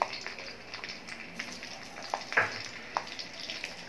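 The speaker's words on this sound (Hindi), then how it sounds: "इसको हम कुछ 5 मिनट तक इसको हल्का फ्राई करेंगे।" Garlic, ginger and cashews fry in a pan with a soft, steady sizzle, broken by a few brief crackles and stirring clicks at close range, no one speaking.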